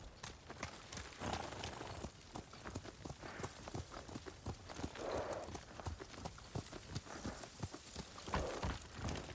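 Horse hooves clip-clop in a steady walking rhythm in Ghost of Tsushima, close and continuous, with faint ambient sound underneath.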